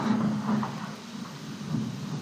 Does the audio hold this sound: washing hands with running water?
no